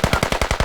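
Rapid automatic gunfire in a military shooter video game, a steady burst of about seven evenly spaced, punchy shots at close range with no talk over it.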